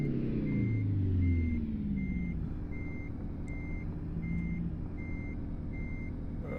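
Rhythmic reversing beeps from a truck in American Truck Simulator, evenly spaced electronic tones repeating over a loud steady diesel engine drone, with a falling engine pitch at the start.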